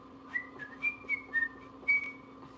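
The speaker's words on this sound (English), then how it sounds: "can I whistle?" A person whistles a short string of clear, tonal notes, some sliding slightly in pitch, close and moderately loud over a faint steady hum.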